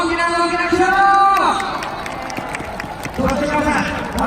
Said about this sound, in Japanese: ユニバーサル・スタジオ・ジャパンのダンサーズ仲間たちの大きな拍手を